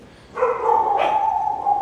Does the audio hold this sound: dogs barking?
yes